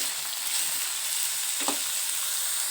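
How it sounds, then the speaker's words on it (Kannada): Tomatoes sizzling and frying in a pan for a snack made from leftover chapati, a steady broadband hiss with a brief stir or scrape midway, no talking. "ಈಗ ಟೊಮೆಟೊ ಹಣ್ಣು ಹಾಕೊತೀನಿ ಇದನ್ನು ಸ್ವಲ್ಪ ಹುರ್ಕೋಬೇಕು"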